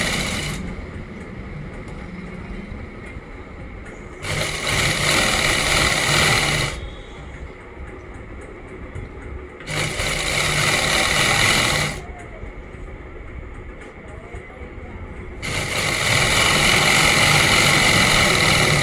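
Sewing machine stitching a second seam over an earlier seam on an Afghani pant, running in three loud sustained bursts with quieter pauses between them.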